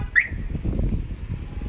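A truck's aftermarket car alarm goes off with a brief rising electronic chirp, followed by low rumbling engine or handling noise close by.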